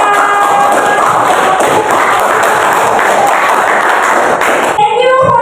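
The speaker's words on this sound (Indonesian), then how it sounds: "Ya, tepuk tangan lagi gitu langsung" Students in a classroom clap their hands together, a loud close burst of many overlapping claps that holds steady for several seconds, then cuts off as voices take over at the end.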